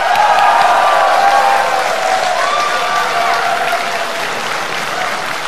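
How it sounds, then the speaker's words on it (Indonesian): A large audience applauds steadily at the first 2014 Indonesian presidential and vice-presidential debate, a dense, loud, continuous wash of clapping that fades only slightly over several seconds. "Kita berikan tepuk tangan."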